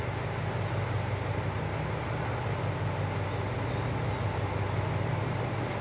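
A Hino BRT bus on the Kesennuma Line bus rapid transit route, arriving in the direction of Yanaizu, a continuous low engine drone and road rumble with a faint higher whine partway through.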